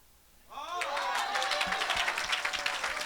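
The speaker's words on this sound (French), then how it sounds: "Acclame, acclame, acclame, acclame." A church congregation at an evangelist's service breaks into applause and cheering, starting abruptly and holding as a dense, steady roar of clapping with voices mixed in.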